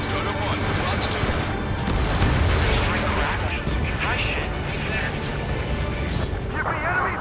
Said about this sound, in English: God, the artillery fire's got a number on my hearing!